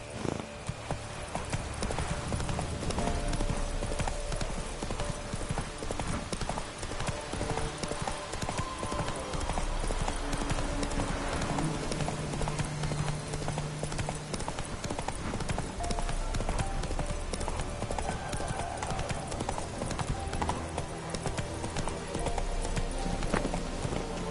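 Geralt's horse Roach trotting in The Witcher 3, a steady clip-clop of hooves running throughout at an even pace under a dense game soundscape, with brief background voices.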